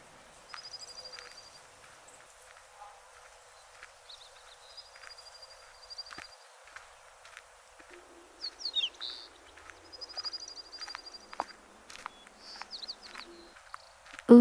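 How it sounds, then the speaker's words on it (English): Birds chirping in a pine forest along a path with wooden bridges: repeated short, high trilling phrases and scattered tweets, fairly clear and moderately close against a quiet background. "listen to the joyful birds chirping"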